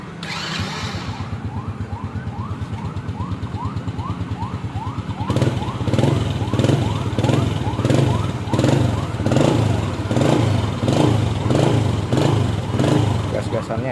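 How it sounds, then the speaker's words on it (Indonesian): A restored Honda Supra X motorcycle engine starts and idles with a rapid putter, then is revved in repeated loud rising bursts close by, with people talking over it. "Sekarang kita kembali lagi ke motor, kita tes hidup ya."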